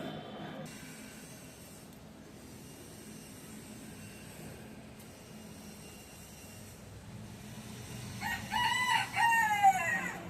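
Chickens kept near a rooftop garden are heard as a rooster crows fairly clearly toward the end over a low, steady outdoor background.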